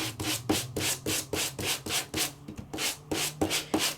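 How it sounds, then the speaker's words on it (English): Sandpaper rubbing across embossed red cardstock with a white core, in quick, steady back-and-forth strokes of about two per second, close and alone with no talking. "I can sand it."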